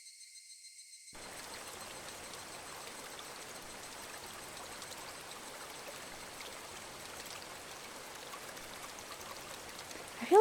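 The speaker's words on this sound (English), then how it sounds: "I feel like they probably could have gotten a different water noise." A looped flowing-water sound effect from a fantasy video game plays as a steady, faint trickling hiss, alone and continuous after a brief quiet start.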